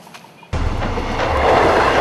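A train passes close by along railway tracks beside a grassy trackside path, starting abruptly as a loud, steady rumble with rattling wheels that continues throughout, with no speech.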